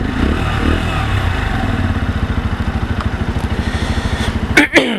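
A Lexmoto Assault motorcycle engine cranks and fires, settling into a steady, close, thumping idle that ends with a brief clatter; a voice is heard near the start.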